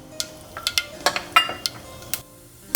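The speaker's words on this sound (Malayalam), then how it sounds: "കടുക് ചേർത്ത് കൊടുക്കുകയാണ്" Mustard seeds hitting hot oil in a pan while cooking a coconut-free spicy yogurt curry, giving a series of sharp, separate pops and crackles, close and clear, with no talking.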